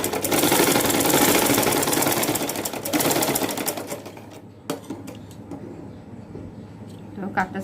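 A sewing machine stitches a cut seam on a baby frock, a fast steady mechanical whirr for about four seconds that then stops, followed by quieter handling clicks, loud and close.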